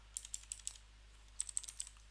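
Fingers type on a computer keyboard while writing Apex trigger code, with quiet, close clicking keystrokes in two short bursts separated by a brief pause, and no talk.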